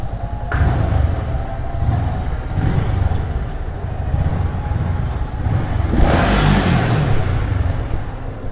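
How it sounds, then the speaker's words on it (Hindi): A faulty car engine shakes and sputters unevenly with a loud, close, rough low rumble, then surges into a louder revving roar partway through. "इंजन आवाज़ कर रहा है और फड़फड़ा रहा पूरा इंजन अंदर से।"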